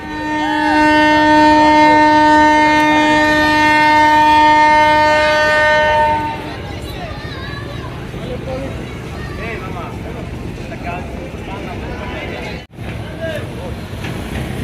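The passenger launch Kirtonkhola 10 sounds a long, loud multi-tone horn blast while underway, then the horn cuts off, leaving engine rumble and a busy river soundscape.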